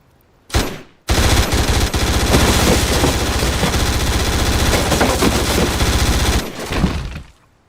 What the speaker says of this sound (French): This weapon is called a P90. It carries a 50-round top-loading magazine of Teflon-coated ordnance with a cyclical rate of fire of 900 rounds per minute.